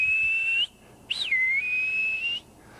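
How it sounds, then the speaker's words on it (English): Orca whale whistle calls: a sustained high tonal whistle, a short break, then a rising-and-falling sweep leading into another long steady whistle, clear and alone against faint water hiss. "that's the sound you hear most often from orca whales"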